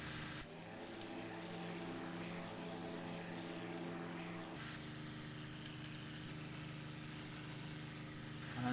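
A propeller fighter aircraft powers up for takeoff in the flight simulator game IL-2 Sturmovik 1946, giving a steady, droning engine roar that shifts tone partway through.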